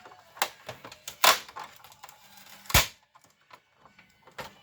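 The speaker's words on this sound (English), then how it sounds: "We're just going to remove this tape here." Tape being peeled off a Canon Pixma TS9120 printer during disassembly, heard as a series of close, sharp tearing and ripping bursts separated by short quiet gaps.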